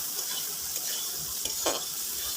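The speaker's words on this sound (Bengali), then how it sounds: "তারপরে মটরগুলো দিয়ে দিচ্ছি। মটরগুলো আগে থেকে সিদ্ধ করে রেখেছি, দিয়ে বেশ ভালো করে নাড়াচাড়া করে নেব।" Boiled peas are stirred in a frying pan for matar paneer, a soft sizzle running under occasional scraping spoon strokes, fairly quiet and without talk.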